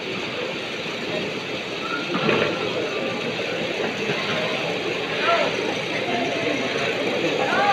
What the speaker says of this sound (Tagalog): nilalagyan ng makina para maging oxygen ng isda